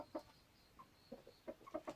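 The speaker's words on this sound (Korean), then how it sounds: "보이시는 하얀색 닭들이 오골개고요. 뒤에 보이시는 갈색 빛이 토종닭이고요. 앞에 돌아다니는 게 청개예요." Silkie, Cheonggye and native Korean chickens give several soft, short clucks spaced irregularly, quiet and nearby against a faint background hum.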